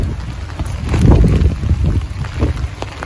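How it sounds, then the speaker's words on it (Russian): Strong gusty wind buffets the microphone in heavy, rumbling surges, with no voices. "Выворачивается зонтик от ветра."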